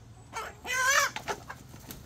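A chicken gives a short, fairly close clucking call followed by a few softer clucks, with no talk over it.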